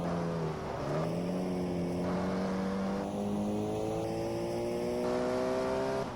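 Race car engine in GT Legends holding a steady high drone, pitch dipping briefly and then climbing slowly across several gear pulls, with no talk over it.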